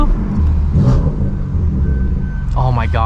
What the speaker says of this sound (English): that turbo spool is so nasty